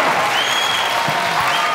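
Steady audience applause in a comedy talk-show studio, a continuous wash of clapping heard close, with a faint tone and low thumps underneath.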